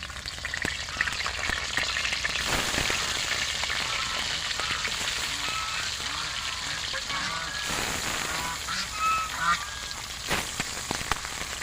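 River fish fry in hot oil, a loud bubbling crackle that carries on steadily with stirring and spatula scrapes over it, close at hand and with no speech.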